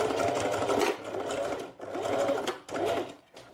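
A sewing machine runs in bursts, top-stitching through the layers of a quilted makeup bag with its lining pressed down: three steady stitching runs with brief pauses between, close and loud, with no talking.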